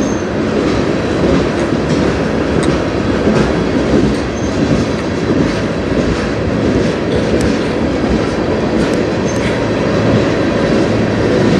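A slow freight train rolls past on the Strathroy Subdivision near Sarnia, loud and close, with continuous rumbling wheels, rhythmic clickety-clack over rail joints and faint wheel squeal, no voices.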